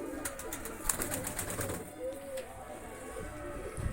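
Pigeons of one breed kept as breeding hens coo in a loft amid scattered clicks and rustling, with faint speech in the background.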